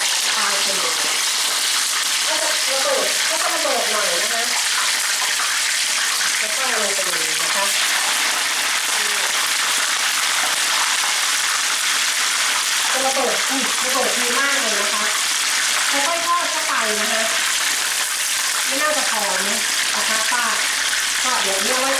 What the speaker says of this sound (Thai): ตอนนี้เราทอดเขาก่อนนะคะ ก็เเขาลงไปทอดเลยนะคะ